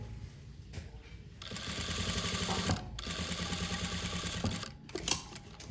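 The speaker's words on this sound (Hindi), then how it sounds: "और एक सिलाई इधर भी लगाओ" A sewing machine stitches lining and main fabric together in a tailoring class, its steady mechanical whir running loud and close for several seconds with a short pause midway and no talking.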